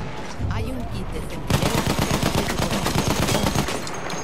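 Gunfire from the video game Battlefield 1 on the Monte Grappa map crackles in rapid, dense automatic bursts, loud and continuous after the first second or so, with a voice audible early on.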